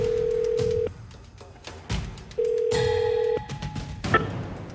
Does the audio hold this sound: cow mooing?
no